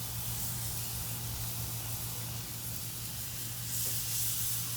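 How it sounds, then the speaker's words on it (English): Chicken on a grill gives a steady, loud sizzle that hisses without a break, with a low hum underneath and no voices. "You wanna hear that sizzle."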